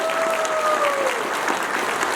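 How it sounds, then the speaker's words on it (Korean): Audience applause for a candidate at a political party members' education event in a welfare center auditorium, a brief, steady burst of crowd clapping with faint voices underneath. "윤상현 후보한테 큰 박수 부탁드립니다"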